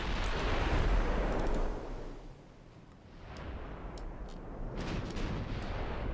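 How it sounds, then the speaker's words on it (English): Battleship main guns firing in the naval game Ultimate Admiral Dreadnoughts: a deep rolling boom that fades, then another long rumbling blast with distant crackles, heavy low-end and no talking. "got all the guns firing"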